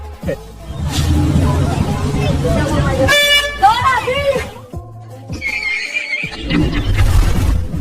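A loud vehicle horn blares in a sustained blast, followed by shorter honks, with busy street noise and voices around it.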